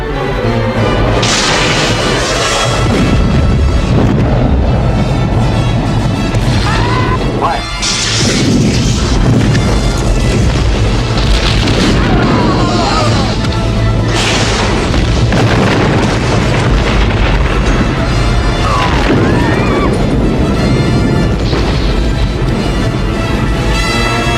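Torpedoes firing and exploding during a starship battle scene in Star Trek II: The Wrath of Khan, a dense run of loud booming blasts and crashes over a dramatic orchestral score, with some dialogue mixed in.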